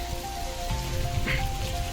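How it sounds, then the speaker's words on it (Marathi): Water pours down steadily from an overflowing tank, splashing onto a hard surface with a continuous rain-like patter. "अरे बघ कसं पावसासारखं पाणी पडत आहे रे ते."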